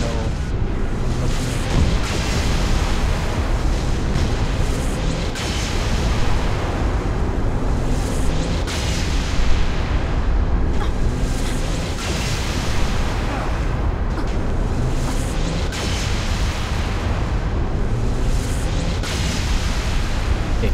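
Explosions from firing on a scarab in Halo: Reach, a dense continuous barrage of booming blasts and rumbling impacts over twenty seconds, loud and unbroken.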